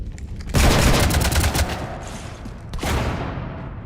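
Bursts of gunfire from the video game Mass Effect 3: a loud, dense volley of rapid shots, a short lull, then another burst that trails off.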